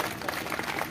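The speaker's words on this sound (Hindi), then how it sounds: "अंजनी यादव जी को नाम पर तालियां हो जानी चाहिए।" Crowd applause at a Yadav Mahasabha rally honoring Anjani Yadav, a dense, steady wash of many hands clapping at moderate distance, continuous for under a second with no break.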